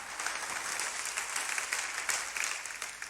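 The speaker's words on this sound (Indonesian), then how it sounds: "Kasih tepuk tangan yang paling meriah buat Tuhan kita." A church congregation applauds during a sermon, a steady, fairly faint wash of many hands clapping together with no talk over it.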